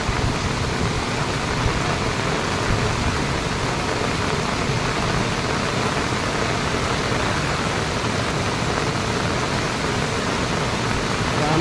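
Heavy rain pours down steadily among cashew trees, a dense, even roar close by that never lets up, with no voices.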